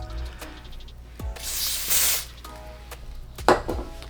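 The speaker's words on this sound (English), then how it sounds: "Spray the spray everywhere else." An aerosol spray can hisses in two short bursts, close and fairly loud, with handling clicks and knocks between them.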